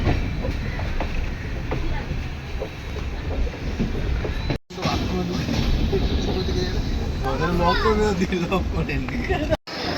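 Inside a moving passenger train, a steady rumbling clatter of the carriage on the rails with lively chatter and children's voices over it, briefly cutting out twice.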